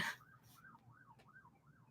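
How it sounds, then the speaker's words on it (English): A faint siren wails in steady rising and falling cycles in the distance, with a brief breathy noise at the start. "you hear that siren going off"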